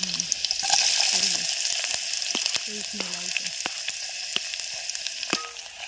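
Garlic and spices sizzling in oil for Maggi noodles cooked outdoors on a mountain at Achalgarh, Mount Abu: a steady bright frying hiss with scattered crackles and stirring clicks, close by, with brief voices in the background.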